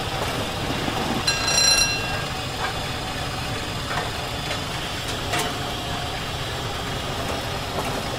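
An LNER Class A4 steam locomotive runs on the London to Brighton line, a steady dense rumble of engine and rail noise with a brief hiss-like burst early on, loud and continuous with no talk.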